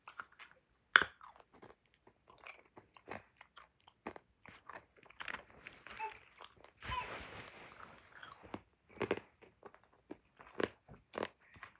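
Crunchy, wet chewing of a Warheads extreme sour cherry hard candy, heard close up as irregular bites and crunches with short pauses, no talking.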